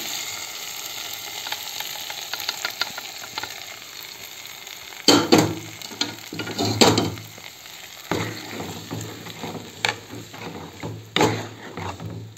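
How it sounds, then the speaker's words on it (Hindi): Tadka tempering sizzles and crackles in a hot pan for a stinging nettle sabzi, a steady frying hiss with bursts of louder spattering and stirring scrapes, close and without talk. "तड़का रेडी हो रहा है"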